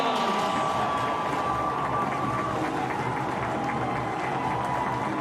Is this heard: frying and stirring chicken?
no